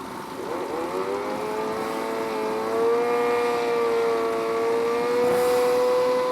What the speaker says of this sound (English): we're going to be racing a Aprilia RSV4. Very fast bike.